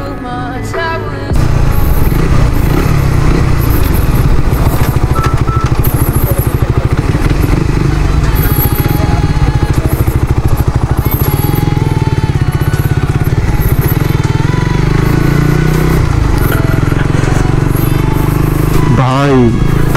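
A Suzuki GSX-R 150 motorcycle engine drones loud and steady while riding, mixed under wind and music, with a brief rising rev near the end.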